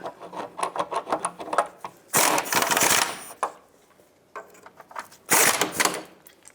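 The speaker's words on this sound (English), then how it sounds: "start in the 2 bolts, and snug them up." Shield bolts on a 2003-2009 Toyota 4Runner are tightened with a ratchet, giving rapid close clicking runs and a couple of longer harsh grinding bursts with short pauses between.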